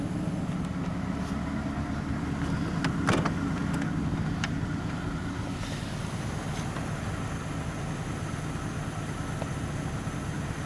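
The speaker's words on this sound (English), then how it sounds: "since we've already got it started, you get a little engine sound there" A 1940 LaSalle Series 52 engine idles steadily with a low, even rumble, close by and with no one talking.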